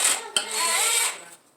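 Quick ratchet or wrench working a 15mm bolt on a 4.8 LS engine, a short close burst of metallic clicking and whir lasting about a second with a sharp tick near the start.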